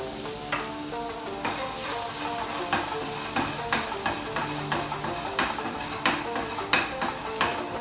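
Ginger, garlic, celery and Szechuan pepper stir-frying in oil in a wok, with a constant close sizzle broken by regular sharp spatula scrapes and clanks, no voices.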